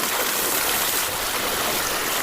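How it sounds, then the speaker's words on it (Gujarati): Irrigation water pours steadily through a farm field channel, a loud, close, unbroken rushing with no pauses and no voices over it. "ફાઇનલી પાણી છે ને ચાલુ છે અત્યારે"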